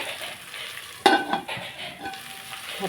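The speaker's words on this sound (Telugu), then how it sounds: "పోపు పెట్టుకుందామండి" A tempering sizzles in a pan for an okra fry and a raw banana tomato curry. One sharp crackling burst rises over a steady hiss of frying, and nobody speaks.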